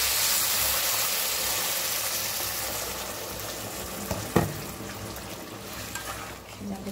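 Beef fries in a pan during home cooking, a steady, fairly faint broadband sizzle that holds throughout with a single brief clatter partway in.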